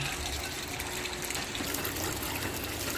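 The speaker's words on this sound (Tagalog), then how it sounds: "Tatagas na yan ang tubig pag pindutin mo ang start." Water rushes steadily into an automatic washing machine drum after the start button is pressed, a continuous broadband gush with no talk over it.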